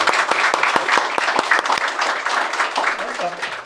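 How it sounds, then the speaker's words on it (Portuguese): A live audience at a Brazilian podcast recording applauds a guest with steady, dense clapping that stays loud and close throughout, with a few voices mixed in. "Uma salva de palmas para o nosso convidado aqui."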